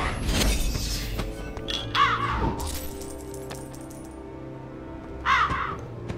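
A crow caws in the LEGO The Hobbit video game, two distinct harsh calls spaced a few seconds apart over game music and clinking effects, with an earlier crack at the start.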